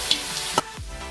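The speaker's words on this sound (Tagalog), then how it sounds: "Next, ilagay na po natin ang cauliflower." Cauliflower dropped into a pan with carrots and a little water, giving a short burst of sizzling and a stir with a soft clatter, close and fairly loud.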